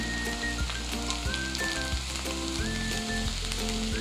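Finely chopped carrots dropped into a frying crushed ginger and garlic mixture, giving a loud, continuous close sizzle with light stirring, no voices present.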